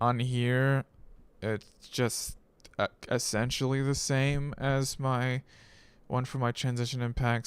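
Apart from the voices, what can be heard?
No everyday noise stands out behind the speech.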